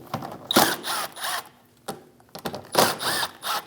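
A ratchet fitted with a 7mm socket loosens bolts holding a wheel-well liner on a 2016-2025 Chevrolet Malibu 1.5L, several quick bursts of rapid clicking, close and fairly quiet, separated by short pauses, no voices.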